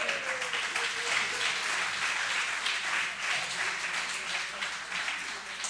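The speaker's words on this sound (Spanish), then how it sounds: "¡Un aplauso!" An audience at a multiple sclerosis conference forum in Galicia breaking into steady, dense applause that continues evenly for several seconds, with no talk over it.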